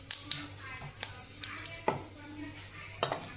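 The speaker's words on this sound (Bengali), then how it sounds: "তোমরা এইভাবে পাঁচফোড়ন বানিয়ে নিবা, নিয়ে তেলে দিবা, সুন্দর হচ্ছে দেখো।" Homemade panch phoron spices are fried in oil for a kacchu shaak dish with poppy seed and hing, giving a soft background sizzle broken by sharp, close clinks and scrapes of a spatula stirring in the pan at irregular intervals.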